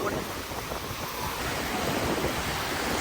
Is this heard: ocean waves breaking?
yes